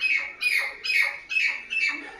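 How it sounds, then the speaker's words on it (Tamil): A sparrow chirps in a run of four loud, close, shrill calls, evenly spaced, near a flour mill grinding wheat, with no voices over it. "சிட்டுக்குருவி கத்துது."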